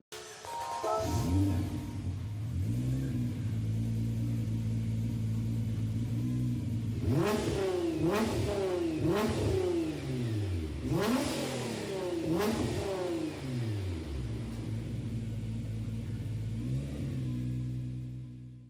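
A car engine in a Gran Turismo 7 race revs hard and repeatedly, its pitch climbing through gear after gear in a long run of rising sweeps with brief dips at the shifts, loud and close, with no voices.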